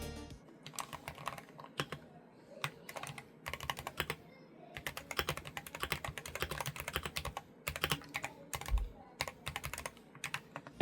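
Fast, continuous typing on a Wooting 80HE keyboard fitted with PBT keycaps, a dense, fairly soft patter of close keystrokes in bursts with short pauses, no voices.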